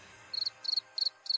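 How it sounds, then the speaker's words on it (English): Crickets chirp in four short, evenly spaced bursts, each a rapid high trill, clear and steady over a quiet, faint background with no voices. "Is now a good time for crickets?"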